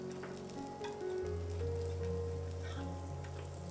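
Garlic beetroot bread frying in oil in a pan, a steady close sizzle that swells after the first second and holds evenly with a faint hum beneath.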